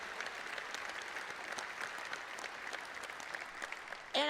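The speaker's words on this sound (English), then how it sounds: "could we please give our veterans a big round of applause?" A keynote audience at the AWS Public Sector Summit 2017 applauds veterans with a steady, moderately distant wash of clapping from a large crowd, cut off abruptly by a loud voice at the very end.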